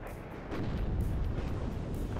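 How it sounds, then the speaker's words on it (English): Tank cannon fire in the WARNO wargame, a steady rumbling barrage of heavy booms filling the mix, growing louder after the first half second and continuing without talk. "Shots coming in from the tanks as well."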